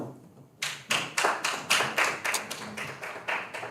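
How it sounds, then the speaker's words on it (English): An audience at a multi-stakeholder dialogue breaks into applause, a sudden burst of hand clapping that starts abruptly and continues in uneven, fairly close claps. "You've already earned a round of applause."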